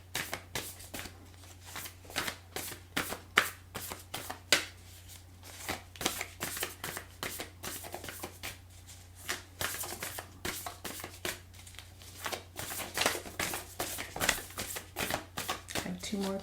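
Oracle cards are shuffled over a steady low hum, making rapid riffling and flicking bursts that come close together and repeat throughout. A voice speaks intermittently over the shuffling.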